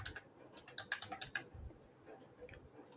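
Quick clicking keystrokes on a computer keyboard as a phone number is typed in, a short burst of light taps, fairly faint and close.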